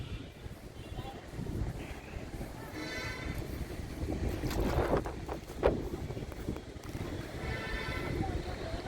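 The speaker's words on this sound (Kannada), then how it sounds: "ಹಾಗೇನೆ ಸಖತ್ ಗಾಳಿ ಇತ್ತು" Strong wind roars steadily across the microphone beside the Ganges river at Rishikesh, a constant loud rush with water in the background and people talking underneath.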